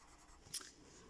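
A colouring pencil laying dark red over orange on paper, pressed a little harder: a single brief, soft scratchy stroke against a quiet background.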